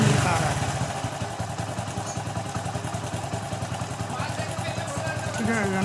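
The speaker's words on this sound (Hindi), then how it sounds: "मैं थोड़ा सा रेस देकर आपको दिखाता हूँ" A Hero motorcycle engine, with an HF Deluxe, Splendor BS6 and Passion named, runs with a close, steady, rapid mid-pitched putter, swelling slightly as it is revved near the end, while someone talks over it.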